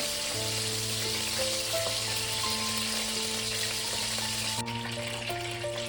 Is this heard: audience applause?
no